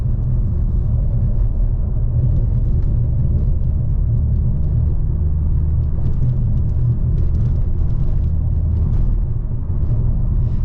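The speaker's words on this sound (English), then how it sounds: "So we're gonna go down this bumpy road, go ahead and give it a listen." A 2020 Dodge Challenger SRT Hellcat Redeye Widebody rolls over a rough, bumpy road, giving a loud, continuous low rumble of engine and tires heard from inside the car, steady throughout with faint rattles above it.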